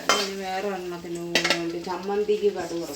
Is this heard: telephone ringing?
no